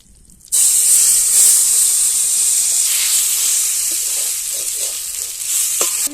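Potato batter hitting hot oil in a wok bursts into a loud, bright sizzle that continues steadily with a few small bubbling pops.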